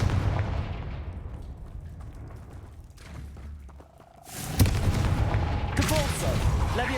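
Confringo fire spell blasts in Hogwarts Legacy, several sharp booming bursts with crackling fire, loud and close, a quieter stretch in the middle before a strong blast and more bursts near the end.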